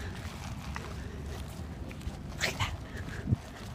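A dog being trained outdoors near a school parking lot gives a few short barks and whimpers amid clip-clop-like footsteps, fairly faint under steady outdoor background noise.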